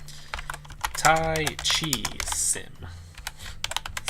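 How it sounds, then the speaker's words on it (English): Rapid clicking of a laptop keyboard as someone types while playing Game Dev Tycoon, with someone talking over the steady, close keystrokes. "I just started typing into random things."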